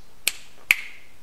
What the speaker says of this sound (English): Which set of finger snaps